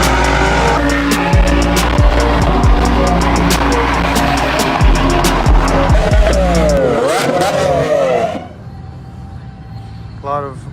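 Muscle cars pulling out of a Cars and Coffee meet in Tifton, loud engines revving and roaring close by, with a brief tire squeal, before the noise drops away sharply near the end.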